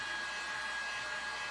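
A heat gun on its low setting blows hot air onto a latex rubber bat cowl mask, giving a steady, unbroken airy whoosh with no pauses and no voices.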